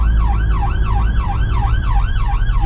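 Emergency vehicle siren wailing on a busy rush-hour motorway, a loud, steady up-and-down sweep repeating about every half second over constant traffic rumble.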